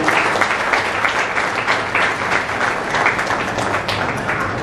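Audience applause at a Marathi book launch ceremony, dense sustained clapping from a crowd, loud and steady throughout with no speech over it.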